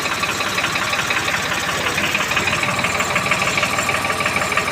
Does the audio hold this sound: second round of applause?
no